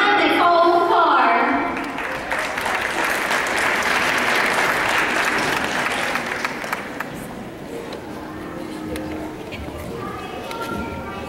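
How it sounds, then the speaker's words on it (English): An audience at a children's beauty pageant applauds a contestant. The clapping swells after an announcer's voice at the start, holds as a dense wash, then thins and fades toward the end. "Big round of applause for contestant number 3, Brianna Nicole Carr."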